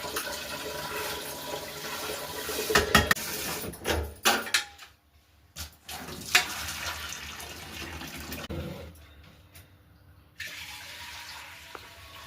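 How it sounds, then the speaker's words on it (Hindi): Water running and splashing as lentils (dal) are rinsed in a home kitchen, a loud, steady wash with brief clatter and pauses, fading quiet near the end with no talk. "तो मैंने दाल को अच्छे से धो लिया है"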